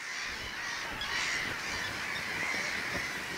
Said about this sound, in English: Small islands in the river delta inhabit a screaming mass of chicks of terns and gulls.